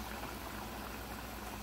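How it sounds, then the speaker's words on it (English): Hot oil sizzles and bubbles steadily in a dense, even crackle as fries deep fry, close up, with no voices. "Fries are deep frying."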